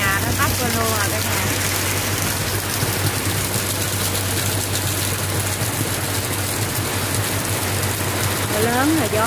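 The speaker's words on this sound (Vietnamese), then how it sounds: "Mưa lớn là gió quá trời luôn." Heavy rain with strong wind pours down without a break, a dense loud hiss and patter of drops on surfaces with a low rumble underneath, and faint voices surface briefly at the edges.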